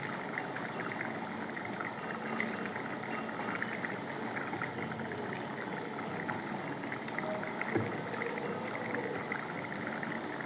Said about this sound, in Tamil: குழம்பு சூப்பராக கொதிச்சிருச்சு